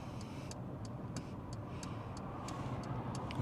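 A car's turn signal ticks at an even, quick rhythm inside the cabin, faint over a low steady engine and road hum.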